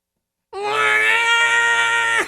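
A person's voice imitates the scream of E.T., a single drawn-out, high, wavering wail that holds steady for almost two seconds before cutting off.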